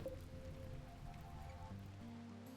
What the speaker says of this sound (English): Yeah, there's the rain.